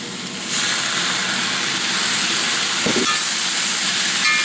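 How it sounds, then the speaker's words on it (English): Soy sauce hits a hot pan of sizzling pork and vegetable stir-fry, a loud steady hiss and crackle that swells at the start and keeps frying continuously, close up. "Now I'm going to give this a little shot of soy."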